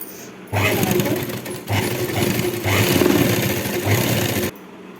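A sewing machine stitches fabric in several close, loud bursts of rapid mechanical whirring, separated by brief stops, with no speech over it.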